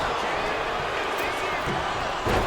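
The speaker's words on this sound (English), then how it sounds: "The crowd is so loud I can't even hear the referee counting" A dense, steady arena crowd roar from the WWE 2K25 wrestling game during a tag team title match, filling the whole stretch at an even, loud level with a slight swell at the very end.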